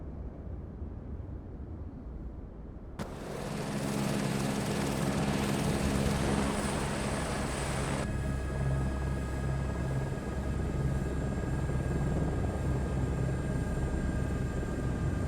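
An H125 helicopter in Microsoft Flight Simulator 2024 starts up after near silence, its engine and rotor swelling into a loud, steady whine and rumble that drops slightly in tone and then keeps droning.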